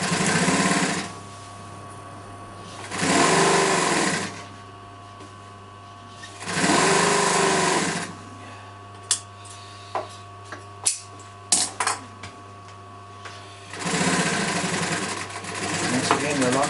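Sewing machine stitching piping for a double-piped chair cushion, running in three steady motor bursts separated by pauses, with a few small clicks and knocks between the runs.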